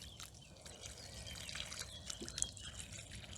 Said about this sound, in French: La crône du Japon, pareil, on va lui faire un bon arrosage.